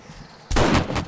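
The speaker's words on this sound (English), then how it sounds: "I can't hear over the sound of explosions." Explosions in the survival game 7 Days to Die: a sudden heavy blast that cuts in midway and rolls into a loud, dense rumble of booms and crackle, up close and overwhelming.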